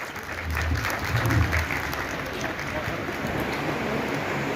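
Audience applause greets an award presented at a Memon Jamat community gathering in Malegaon, a steady crowd of clapping hands with some background murmur and low rumble beneath.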